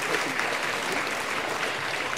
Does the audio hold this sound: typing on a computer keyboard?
no